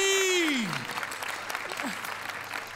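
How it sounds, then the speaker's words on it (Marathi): A television comedy stage show's studio audience breaks into sustained, dense applause, starting under a descending tonal sound effect and continuing steadily to the end. "पण एकदा जोरदार टाळ्या झाल्या पाहिजेत महाराष्ट्राच्या 4 लाडक्या सासवांसाठी"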